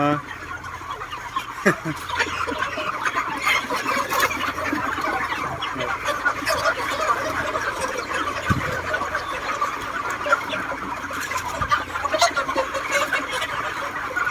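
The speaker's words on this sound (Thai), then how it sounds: "บรรยากาศภายในฟาร์มไก่นะครับผม" Many broiler chickens about 40 days old cluck and chatter continuously at close range inside a poultry farm in Israel, a dense, steady flock noise with occasional louder calls.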